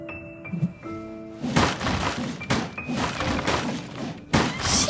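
Noelle smashing a pile of objects in Genshin Impact: loud, dense bursts of thuds and shattering crashes come in quick succession after a quieter opening of game tones, with several heavy impacts near the end.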